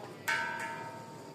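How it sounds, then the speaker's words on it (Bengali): A brass bell at a Buddhist golden temple in Bandarban is struck twice, a loud sharp strike followed by a second softer hit, each leaving a bright, sustained metallic ring that lingers and slowly fades. "এটা একটা ঘন্টা"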